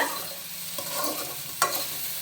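Okra frying and being stirred in a pan for a tomato-chilli chutney, a steady close sizzle with a couple of scraping stirs, no voices.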